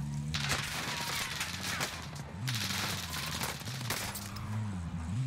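Rapid nail gun fire in the Warzone video game, aimed down sights, a dense run of sharp repeated shots over about five seconds with steady game background underneath.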